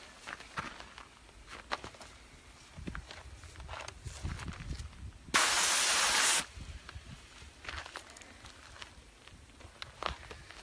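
Graco airless paint spray gun spraying oil primer lets out one loud, steady hiss for about a second amid quieter handling noise and footsteps.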